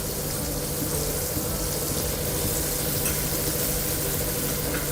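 Finely chopped onion frying on a tawa for a spicy street-style veg burger, a steady, even sizzle that holds close and constant throughout, with no speech.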